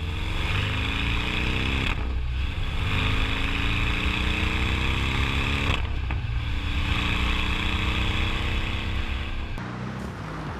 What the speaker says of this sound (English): The four-cylinder is, of course, a bit different in its character. It sounds different.